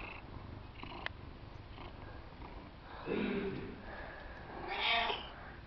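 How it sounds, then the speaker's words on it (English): A cat purrs softly and continuously close by, a low rumbling drone, with two louder swells of breathy sound partway through. "You having a purr-a-thon?"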